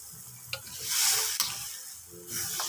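String beans for adobong sitaw cook in a pan with vinegar, a steady sizzle and frying hiss with a few sharp utensil scrapes from stirring, close and fairly quiet, no voices.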